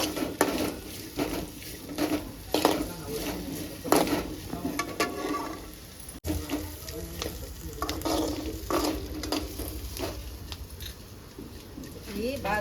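Onions fry over a medium flame in a pan, a soft sizzle broken by repeated clacks and scrapes of a spoon stirring, while someone talks over the cooking throughout.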